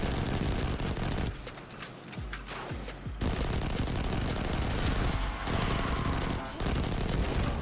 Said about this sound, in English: And bullets are flying everywhere.